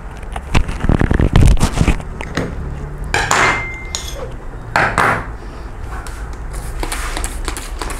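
A woodworking chisel's flat back is rubbed on a sharpening stone, producing scraping, clinking strokes that come loudest early on and then fade to lighter irregular scrapes, with no talking.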